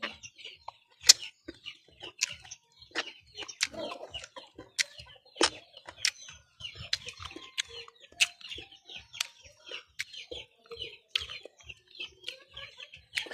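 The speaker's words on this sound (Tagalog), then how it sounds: "Ang daming manok na dito." Chickens cluck and chirp in a yard, giving many short, scattered calls near and far, with faint background noise between them.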